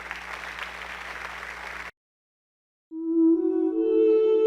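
A church congregation applauds steadily for a couple of seconds, then falls silent before a sustained musical tone begins.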